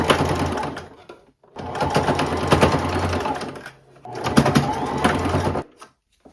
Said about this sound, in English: now I'm just going to sew a straight line right on top of this line here to keep these 2 together